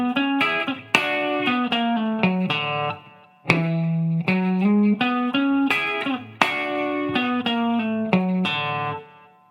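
Country hybrid-picking guitar lick over an E dominant-7 feel, played slowly with distortion: clear picked notes in short phrases separated by brief pauses, loud and alone with no talking.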